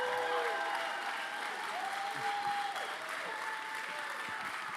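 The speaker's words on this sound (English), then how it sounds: "can we give Professor Price just a round of applause?" An audience at a university film premiere applauds Professor Price, with steady clapping throughout and a few cheers and voices mixed in.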